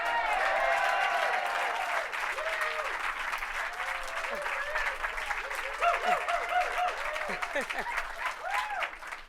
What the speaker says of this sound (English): Ladies and gentlemen, let's give a round of applause for David Green, host of Morning Edition.